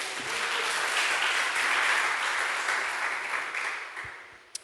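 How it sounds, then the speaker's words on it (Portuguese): Church congregation clapping during worship, a full, steady round of applause that swells slightly in the middle and then tapers off, ending with a single soft thump. "Você pode aplaudir o Senhor Jesus?"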